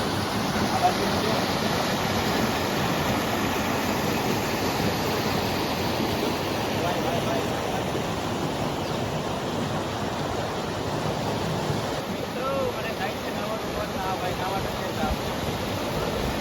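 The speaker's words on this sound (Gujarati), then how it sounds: "નીચે ઉતરીને નદી દેખાડવા તમને" River water rushes steadily below a Mahadev temple, a loud, continuous broadband roar close to the microphone that fills the whole stretch without pause.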